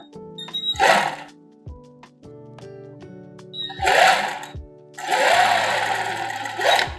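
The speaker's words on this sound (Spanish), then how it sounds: "ahora coser en el otro extremo, con costura recta" Sewing machine stitching a straight seam along the other edge of a garment's waistband, three loud bursts of rapid mechanical whirring separated by brief pauses and quiet handling clicks, close up with no talk.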